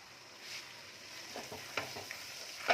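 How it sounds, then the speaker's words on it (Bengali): Chicken masala curry, spiced with biryani masala, fries quietly in a pan, a faint low sizzle with a few soft stirring scrapes and clicks toward the end, no voices. "আর একটু বেশি কষে নেব 2 মিনিট মতো"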